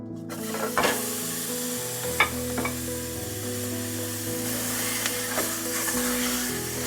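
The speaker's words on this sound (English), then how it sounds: "In a large pot, I'm going to add in the ground beef." Ground beef browning in a large pot for one-pot taco pasta, a constant crackling sizzle with a few scraping knocks of a spoon breaking up the meat, nearby and steady with no talking.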